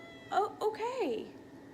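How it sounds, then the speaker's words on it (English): A pet cat meows indoors, a single drawn-out, rising-then-falling call following two short chirps, fairly close and clear over a quiet room. "Hello, the cat is back."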